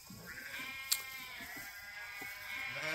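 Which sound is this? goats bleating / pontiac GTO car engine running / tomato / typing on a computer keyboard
goats bleating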